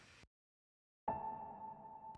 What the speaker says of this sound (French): j'ai rajouté une petite note de piano toute simple, juste une note, comme ça.